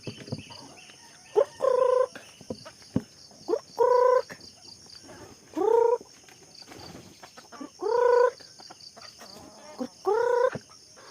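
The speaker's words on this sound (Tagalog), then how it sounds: "Magkapakain muna tayo ng manok" Loud, drawn-out gobbling calls from fowl repeat about every two seconds, five bursts in all, with scattered softer clucks and scratchy noises between them.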